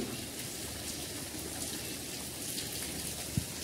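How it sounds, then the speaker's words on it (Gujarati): Steady rain falls outdoors, a soft continuous hiss of drops that holds even throughout, with one brief low knock near the end. "વરસાદ એક ધારું ચાલુ છે"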